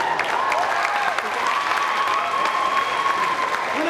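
Steady audience applause fills the room at a high school Misster pageant, a continuous wash of clapping with faint voices underneath.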